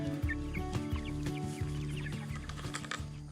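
Homestead poultry cluck softly and intermittently nearby, with short murmuring calls overlapping at a low, relaxed level.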